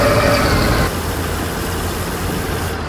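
A Bizon combine harvester's engine in Farming Simulator 19 runs at a raised, steady drone that drops to a lower idle about a second in, close and alone.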